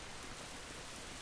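Steady hiss of rain in The Last of Us, an even downpour with no distinct drops that holds at a constant level through a very short stretch.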